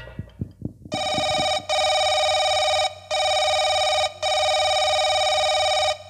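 A telephone rings in repeated long electronic bursts with short gaps between them, loud and close, preceded by a few brief percussive knocks, in the middle of a nautanki stage drama.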